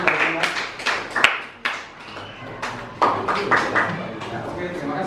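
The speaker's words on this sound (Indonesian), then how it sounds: "tepuk tangan untuk kelompok Akmal." A school class applauding a student group, uneven hand claps rising and falling in short bursts close by, mixed with children's voices.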